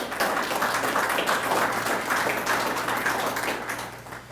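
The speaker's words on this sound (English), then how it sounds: "Give a round of applause." Steady applause from a crowd, a dense wash of clapping holding for several seconds before starting to fade.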